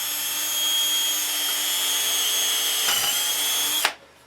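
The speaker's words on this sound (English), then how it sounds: "I'm just going to drill my 3/16 hole through" A loud power drill whines steadily for a few seconds drilling a 3/16-inch hole, with a brief dip near the end before cutting off abruptly.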